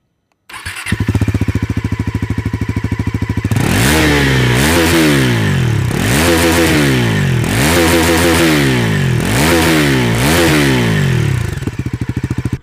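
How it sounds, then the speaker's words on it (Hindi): A 2025 Bajaj Pulsar NS 400Z motorcycle starts up and settles into a loud, close idle, then is revved in five or six sharp, rising blips before dropping back to idle, with no talking. "आपको इस मोटरसाइकिल का एग्जॉस्ट नोट सुनाता हूँ"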